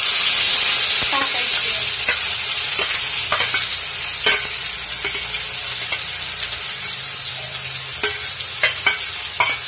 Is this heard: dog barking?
no